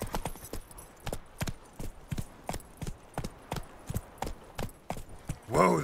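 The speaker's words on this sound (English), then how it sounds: "Whoa there, Roach." A horse trots in The Witcher 3 video game with a steady, even run of crisp hoof clip-clops, about two to three beats per second, fairly close. A brief vocal burst comes at the end.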